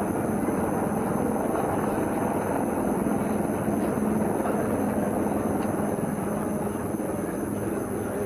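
Rudra attack helicopter during a strike on an enemy tank and heavy vehicle column, heard as a steady, loud, broadband rotor and engine roar that holds constant throughout with no voices.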